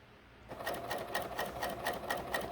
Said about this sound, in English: So you're going to stitch, and as you go, you're going to make sure that the needle mark on the foot is lined up with your actual stitching.